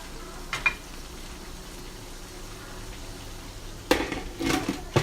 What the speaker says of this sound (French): Là, j'ai rajouté mes carottes, mes poivrons rouges et verts. Là, je vais laisser reposer à peu près 5 minutes à feu moyen.